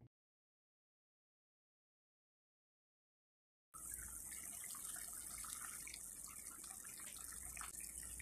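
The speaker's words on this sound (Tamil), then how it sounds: "1 கப்பு தண்ணி ஆட் பண்ணிக்கிறேன்." Water poured from a cup into a cooking pot of paneer curry, a steady, loud gushing splash that starts abruptly after several seconds of silence and continues without a break.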